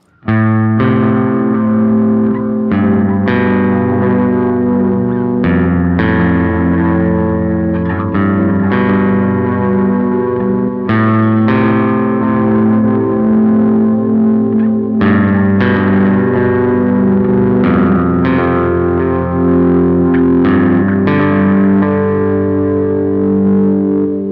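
Distorted, sustained chords repeat in a steady cycle, their pitch gently wavering and warbling with a tape-style flutter and wow wobble.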